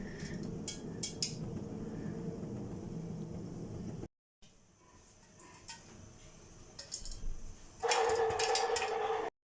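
Popcorn kernels popping inside a covered pot on the stove: sharp scattered pops at the start, a quieter stretch, then a dense, loud burst of rapid popping near the end.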